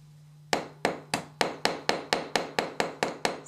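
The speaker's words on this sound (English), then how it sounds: "First, I tap the top of my S-link" A small hammer face tapping a metal S-link held with pliers on a block for texturing: about a dozen crisp, evenly spaced metallic taps, close and fairly loud, with no talking.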